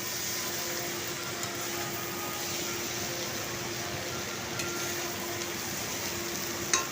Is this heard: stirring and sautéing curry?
yes